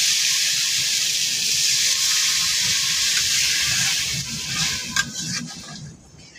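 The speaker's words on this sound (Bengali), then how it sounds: "এখন জলটা দিয়ে নিব, কষানোটা হয়ে গেছে।" Water poured into a hot pan of fried taro (kochu) spice paste, a steady loud sizzle and steamy hiss that holds throughout and then fades near the end.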